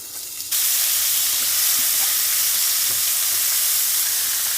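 Sliced homemade döner meat hits a hot pan and bursts into a loud, steady sizzle that holds evenly and close, with no talking.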